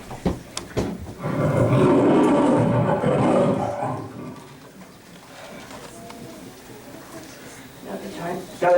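An actor playing a lion in a stage production of The Lion, the Witch and the Wardrobe lets out a loud, drawn-out vocal roar imitating a big cat, sustained for a few seconds before fading into quieter stage noise.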